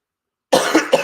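A dry cough: after a brief silence, three quick, loud, close hacks in rapid succession, with no talk.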